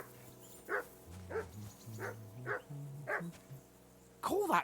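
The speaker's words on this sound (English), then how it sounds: "Who the hell can listen to that? Be quiet, you flea-bitten hound." Dog in the video game Kingdom Come Deliverance II, barking in short, evenly spaced yaps over a low musical backdrop, ending with a louder, whining bark burst.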